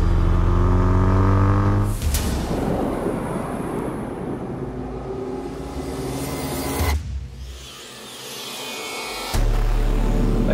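Ford Focus RS car pulling away on a mountain road, a steady loud engine drone that shifts and drops in pitch as it accelerates off, with a brief quieter stretch before the engine note returns strongly.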